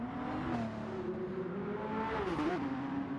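A Porsche race car engine roars in a racing video game, holding a steady, droning note that rises and dips slightly as it revs, fairly close and continuous with no talk.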